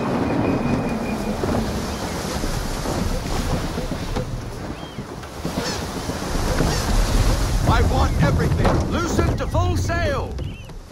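Loud, gusty wind roars continuously with crashing ocean waves around a sailing ship at sea in the Assassin's Creed III video game, with creaking and rushing water building toward the end.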